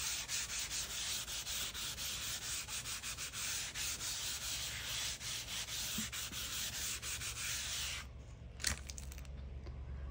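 Paper rubbed by hand over a gel printing plate, a steady, close, continuous scrubbing that runs for about eight seconds and then stops, with a small knock near the end.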